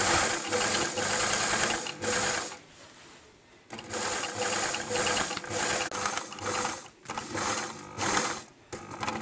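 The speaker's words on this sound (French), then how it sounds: "À présent on coud cette couture du devant." A sewing machine stitches the front seam of a kimono jacket in rapid rattling bursts, stopping and starting several times with short pauses between runs, close and clear.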